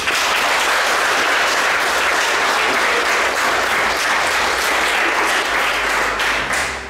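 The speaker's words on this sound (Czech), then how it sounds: "Já si myslím, že si kluci zaslouží potlesk." At a ceremony presenting apprenticeship certificates, the audience applauds six new machine mechanics, a loud, dense, continuous clapping from a crowd that tapers off at the very end.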